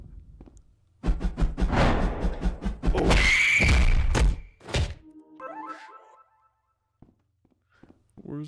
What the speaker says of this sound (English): he just ground pounded me into the wall